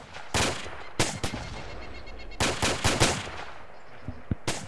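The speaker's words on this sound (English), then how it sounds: "are you hearing explosions or gunshots" Sharp bursts of video game gunfire and mortar fire crack out in irregular clusters, some rapid and close, others sparser, with a low rumble in between.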